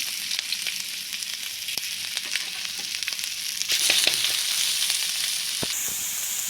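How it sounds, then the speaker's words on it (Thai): Pork and chili stir-fried in a pan for Thai holy basil (kaphrao), giving a steady, close sizzle with scattered spatula clicks and scrapes that swells louder partway through and runs without talk. "เราก็ใส่หมูกับใส่พริกลงไปผัดก่อนนะครับ"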